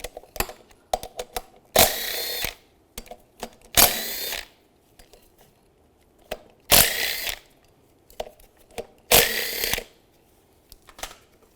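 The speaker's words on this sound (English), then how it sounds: "use a 13 millimeter socket, take these bolts out" Bolts are removed with a 13 mm socket and ratchet on the radiator cooling fan of a 2002-2009 Chevy Trailblazer: four loud bursts of rapid ratcheting or spinning, each about a second long, alone between sharp clicks and clanks.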